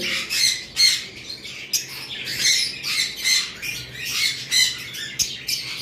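Harsh, shrill squawks from several cockatiels repeat in rapid overlapping bursts, loud and close, with no talking.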